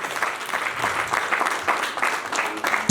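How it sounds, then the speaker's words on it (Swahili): A crowd at a Mulembe family gathering in Kakamega claps for the patron, with steady, fairly loud applause and scattered louder bursts across the whole stretch. "Wapi makofi ya patron."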